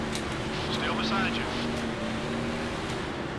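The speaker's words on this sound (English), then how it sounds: "Oh god, our car's over revving big time." Over-revving stock car engine in Nascar Thunder 2004, a sustained high droning whine holding steady under continuous speech.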